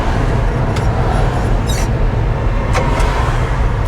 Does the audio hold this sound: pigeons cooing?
no